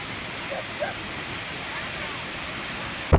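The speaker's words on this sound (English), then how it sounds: "this whole old historic route is full of waterfalls. This one you don't even have to hike to" Steady broadband rush of a roadside waterfall along the old historic highway in the Columbia River Gorge, heard continuously and fairly evenly, with a brief bump near the end.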